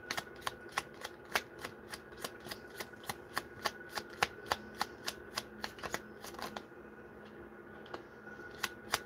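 A deck of cards is shuffled repeatedly for a card reading, giving a steady run of crisp riffling snaps, close and fairly quiet, that slow and thin out near the end with no one talking.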